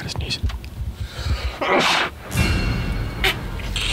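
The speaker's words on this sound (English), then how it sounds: "I got to sneeze. I got to sneeze." A single sneeze bursts out amid whispered talk and background game noise during a tense Quiet Place horror game session played in hard mode, fairly close and loud against the murmuring voices.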